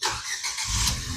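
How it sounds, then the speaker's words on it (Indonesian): A Ford Fiesta sedan's engine cranking and catching, a dense broadband roar with a squealing edge that stays loud and steady throughout, close to the car. "Tuh, kita nyalain ya mesinnya ya"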